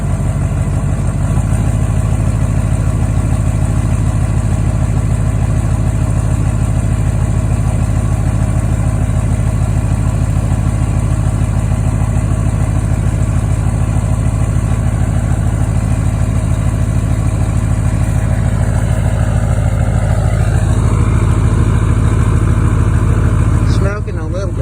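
LMM Duramax diesel idling after a cold start following a week of sitting, a loud, close, steady clattering rumble that holds unchanged for the whole stretch, with a brief shift near the end.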